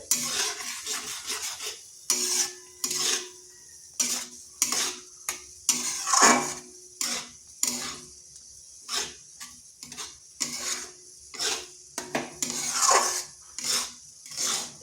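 Semolina is stirred into a pot of water to form a dough for a potato snack: a steady run of close, rhythmic scraping strokes and spoon knocks against the pot, repeated every second or so with short pauses.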